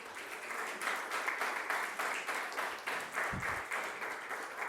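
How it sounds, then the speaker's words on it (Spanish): A church congregation claps steadily for the King during a worship service, a dense, even applause heard moderately close and continuing throughout without talk. "Levántele palmas al Rey."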